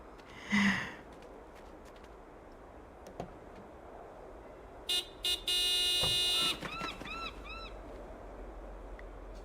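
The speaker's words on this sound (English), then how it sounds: "Do me a favor and honk the horn." A car horn honks in the video game Broken Sword 5, with a few short toots followed by a longer sustained blast and fading repeated beeps, heard over quiet game ambience after an earlier sigh-like sound.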